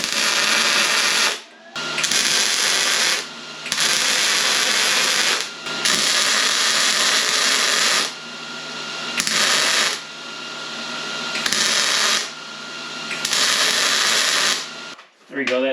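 Welding tacks on a rust-repair patch for a Dodge truck frame: a series of loud, sustained crackling buzzes lasting a second or two each, separated by brief pauses, close up and alone.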